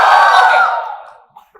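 A university audience hooting and cheering loudly at a fitness talk, a single sustained crowd roar that swells briefly and fades out within about a second.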